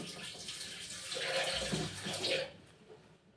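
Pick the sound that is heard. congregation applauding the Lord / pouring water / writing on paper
pouring water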